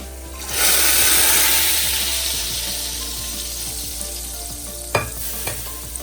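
Fried garlic and cumin tarka hits red lentil dal with a loud sudden sizzle that swells, then slowly fades, followed by a couple of sharp clicks near the end, close and with no talk.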